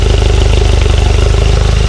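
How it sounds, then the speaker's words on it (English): A loud engine idles nearby with a fast, even, throbbing chug that stays steady throughout. "it's idling just fine now"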